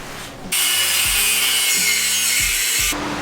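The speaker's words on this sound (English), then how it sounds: "So this thing just needs a quick sand and it'll be ready for paint." A roll cage bar from a 1979 Honda Odyssey FL250 gets a quick sanding, a loud, close, continuous rasping rub lasting about two and a half seconds, with low mechanical hum beneath.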